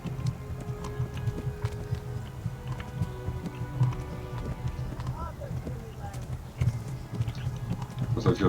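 Horse hooves gallop in Kingdom Come Deliverance, a rapid rhythmic clip-clop running throughout at moderate volume beneath frequent talking and scattered game sounds.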